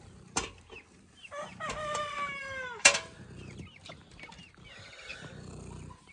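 Baby guinea fowl keets and a duckling being fed on a farm in the morning give high, sliding peeps in short bursts close by, with a sharp click partway through.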